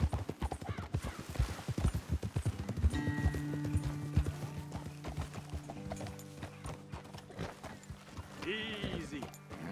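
Horse hooves clip-clopping in Red Dead Redemption 2, a quick rhythmic run of clear hoofbeats that slows and settles into scattered steps, with a horse snorting and whinnying and faint game music underneath.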